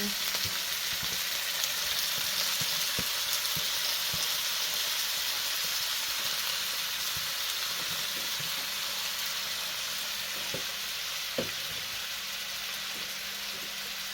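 Vegetables for a quick stir fry sizzling steadily in a hot pan, a dense even crackle and hiss with occasional light ticks and pops, close and alone without talking.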